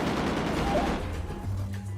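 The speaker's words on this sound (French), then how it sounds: "y'a des coups de feu, gros" A dense burst of rapid gunshots rattles close and loud, then fades into lower rumbling echoes.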